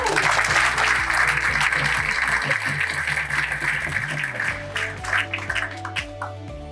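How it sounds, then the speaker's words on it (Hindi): An audience at a motivational success speech applauds loudly and continuously, dense clapping with crowd noise and some tonal background sound, tapering slightly toward the end. "अपने साथी के लिए तो जबरदस्त ताली बजाओ"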